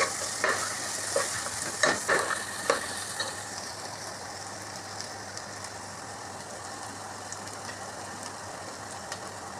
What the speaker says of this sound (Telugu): ఇప్పుడు బంగాళదుంప ముక్కలు వేసుకోవాలి